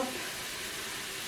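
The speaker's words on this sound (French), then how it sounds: "Donc là, vous venez mélanger." A chicken blanquette sauce thickened with flour is stirred inside a Cookeo multicooker, making a soft, even sizzle and bubbling hiss that stays steady throughout with no voices.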